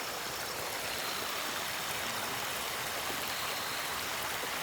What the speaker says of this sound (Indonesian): itu ada air, ada sungai